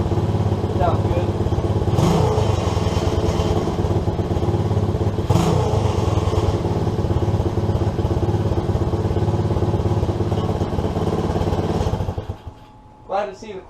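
An SSR 110cc pit bike engine runs loud and close with a steady, buzzing idle and an exhaust rattle, then cuts out near the end, leaving a few faint knocks.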